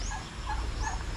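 A turkey on a farm gives a brief, rapid gobble at moderate distance over a low background rumble, with no talking.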